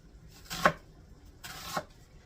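An onion being sliced with a knife for garlic butter steak and mashed potatoes, two distinct close cuts about a second apart, each a brief crunchy swish ending in a light knock on the board.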